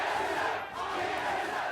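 Dense crowd roar fills a League of Legends esports arena at an NA LCS 2016 match between Immortals and TSM, a steady, loud wash of cheering voices with a brief dip midway.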